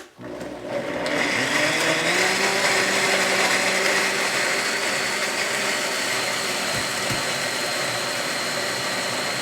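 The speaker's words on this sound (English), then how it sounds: "And now I'm going to put it in my Vitamix. Give that a whirl." A Vitamix blender whirs steadily at full speed through a nutritional yeast sauce, a loud, continuous motor drone that starts abruptly and holds for several seconds with no talk over it.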